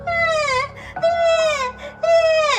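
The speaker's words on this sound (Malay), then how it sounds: "diorang masih lagi terdengar suara bunyi tangisan tu" In a horror story, a baby cries in three loud, close, wavering wails with short breaths between them.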